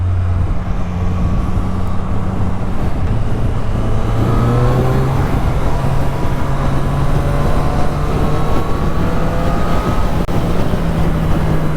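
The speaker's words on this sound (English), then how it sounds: "I do love the engine note. That induction roar from these bikes and these triples is absolutely amazing." Triple-cylinder engine of a 2023 Triumph Street Triple 765 RS motorcycle riding steadily, a continuous loud drone with rising and falling tones as revs shift, close and alone without speech.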